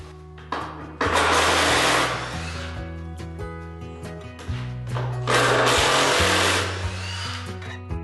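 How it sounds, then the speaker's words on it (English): A power drill backs screws out of a 2x4 holding a garage shelf system, whining in two long bursts with a stuttering, pitch-shifting motor and brief pauses between, close and loud with no talk. "we're going to go ahead and unscrew the screws which we tacked the 2x4 on right here."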